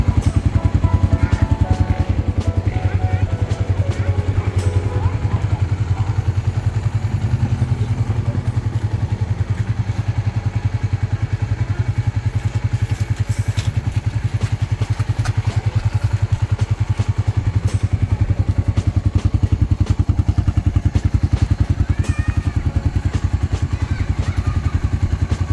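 A Kawasaki KSR motorcycle with a stock exhaust runs steadily for the whole stretch, a loud, continuous low engine drone with occasional clatter and no voices.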